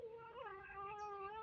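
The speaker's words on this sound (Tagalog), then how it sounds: "Ang ingay nito kasi hindi namin ito pusa." An outdoor stray cat meows in one long, drawn-out caterwaul that bends in pitch, close and steady with no talk over it.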